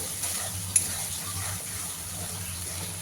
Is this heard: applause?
no